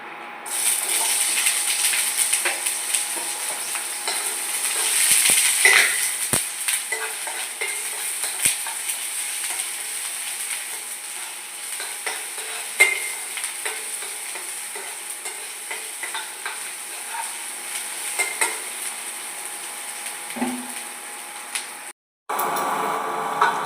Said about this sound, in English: So the next step is we are going to fry our onions.